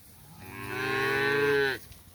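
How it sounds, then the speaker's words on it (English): A big, fat steer on a cattle farm lets out one long, loud moo that swells and then cuts off sharply, heard alone and close. "Big old fat steer walking off there."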